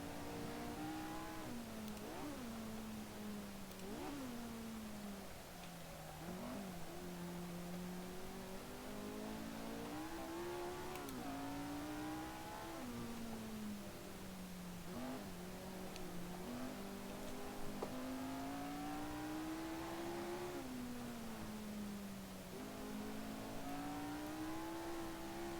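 A Lotus 49 race car lapping Laguna Seca in a racing game, its engine revving steadily up and down through the gears for a long stretch, loud and continuous with no talk.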